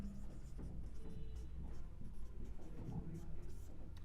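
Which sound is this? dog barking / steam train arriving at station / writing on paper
writing on paper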